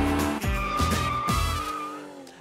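A Renault Sport Megane 265 or Toyota GT86 power sliding, tyres squealing loudly and continuously while the engine revs and shifts in short surges, up close and without talk.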